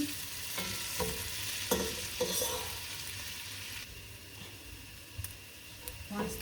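Garlic frying and being stirred in a pot as the base for chicken noodle soup, a steady close sizzle with intermittent scraping stir strokes throughout, no talking.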